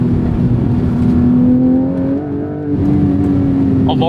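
A Porsche 718 Cayman GTS 4.0 with a naturally aspirated engine drones loudly from inside the cabin, a steady tonal hum that eases briefly then climbs again as revs build.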